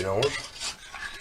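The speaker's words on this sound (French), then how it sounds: "Je mélange" A spoon stirs brown stock into a port sauce reduction in a pan, a brief scraping and swishing with a couple of soft clinks, close and quiet.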